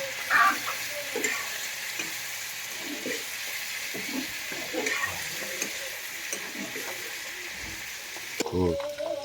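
Pork sizzles steadily in a pan with onion and chilli, broken by scraping stir strokes throughout, with a louder clatter of the spatula near the end.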